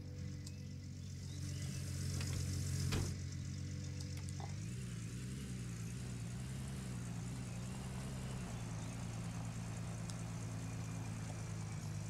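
A vehicle engine idles steadily in the mining game Gold Rush The Game, a low, continuous rumble with a slight shift in pitch partway through and a brief clunk near the start.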